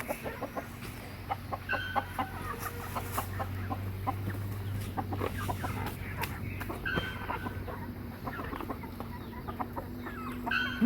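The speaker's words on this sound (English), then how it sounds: "So as you can see, the birds now are eating all of the compost material." Farm chickens on a homestead in Juquitiba, Brazil, cluck and chatter continuously up close while feeding on freshly dumped compost, with busy overlapping calls and scratching throughout.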